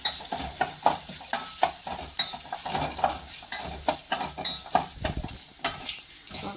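A spoon stirs grated coconut with dal in a hot frying pan for coconut rice, giving repeated scraping strokes over a soft, steady sizzle, close and rhythmic.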